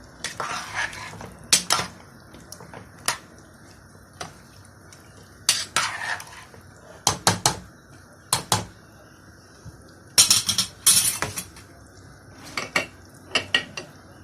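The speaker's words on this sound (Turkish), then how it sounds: "Karıştırıyorum." Spoon scraping and clinking in a pot of okra and meat stew, irregular bursts of metallic stirring scrapes, close and fairly loud, with quiet gaps between strokes and no talk.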